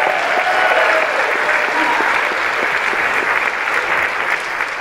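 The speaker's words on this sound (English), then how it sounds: "let's give the Lord a great big hand clap on that." A church congregation at a men's weekend event claps loudly in dense, sustained applause, close and steady throughout with no break.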